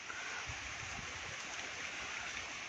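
The Sutlej river near Anandpur Sahib in Punjab flows heavily, heard as a steady broadband rush of water with a constant, unbroken roar and no talk.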